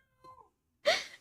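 Casper, a pet cat, lets out a soft, short meow followed by a louder, drawn-out yowling cry, close by in a quiet room.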